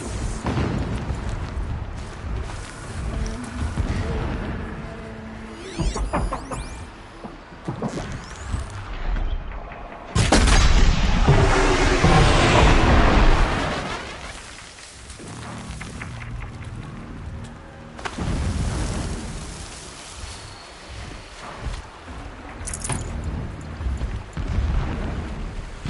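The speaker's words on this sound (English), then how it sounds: "Explosions in the distance." Distant explosions rumble through a Horizon Zero Dawn game scene, a run of booms and bursts with one louder, dense blast midway, set against ongoing in-game ambience.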